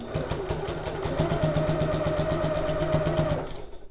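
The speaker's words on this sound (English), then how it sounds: "And sewing at 1/4 inch." A sewing machine runs a quarter-inch seam through messenger bag pieces, one continuous fast stitching run of about three seconds, close and steady, then stops.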